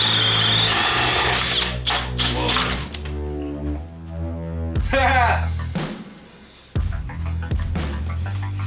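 Makita LXT cordless drill boring a hole with a 1.5-inch paddle bit, motor whine rising and bogging in uneven bursts with thunks as the bit bites, close and loud, with brief talk between bursts.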